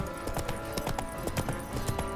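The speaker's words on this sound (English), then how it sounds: "Whoa there, Roach" Horse hooves clip-clopping at a steady trot in The Witcher 3 video game, a dense run of rhythmic knocking hoofbeats, close and moderately loud, over a low game background.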